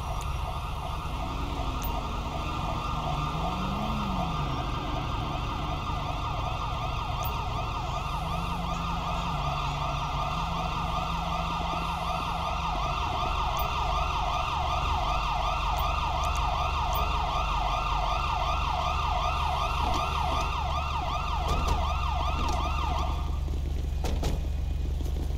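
Ambulance siren in Grand Theft Auto V, a loud continuous wailing and yelping tone that runs steadily close by over vehicle rumble, with no talking, and cuts off near the end.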